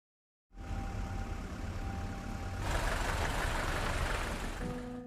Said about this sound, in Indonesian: Tak lama kemudian datanglah sebuah mobil dan berhenti di samping mobil mereka.